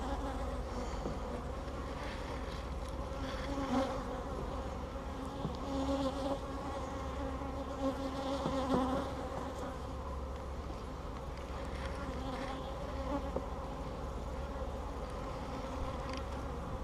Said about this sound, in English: Rescue some bees now since I messed up and left the